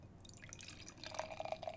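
Dark stout beer poured slowly over several minutes, a soft liquid trickle and dripping into a glass, faint and close, growing a little busier toward the end.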